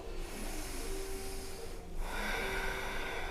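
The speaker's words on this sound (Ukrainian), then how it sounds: "ви вдихаєте уджай через ніс" Steady, breathy nasal ujjayi breathing during a yoga session, a continuous airy hiss with a snort-like rasp, close and fairly loud, with no talking over it.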